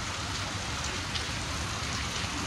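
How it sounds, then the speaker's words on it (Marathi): Heavy monsoon rain falls in Tembhurni as a steady, even hiss of drops on surfaces, continuous and moderately loud with no voices. "बघा पाऊस कसा चालू आहे"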